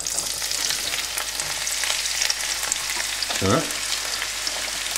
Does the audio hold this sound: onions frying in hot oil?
yes